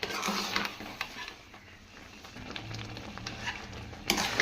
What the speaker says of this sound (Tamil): இந்த மாதிரி நல்லா மிக்ஸ் பண்ணிக்காங்க.